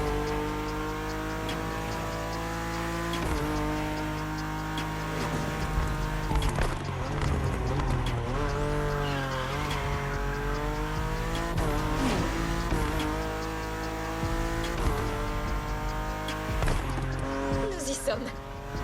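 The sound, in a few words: BMW M4 driving in The Crew Motorfest video game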